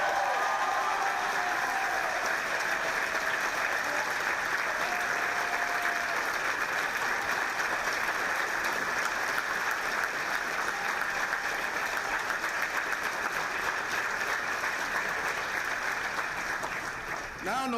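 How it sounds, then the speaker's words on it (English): Audience at a Milwaukee mayoral inauguration applauding, a steady, sustained wash of clapping that holds at an even level throughout and thins slightly at the very end. "But can we give the mayor another round of applause, please?"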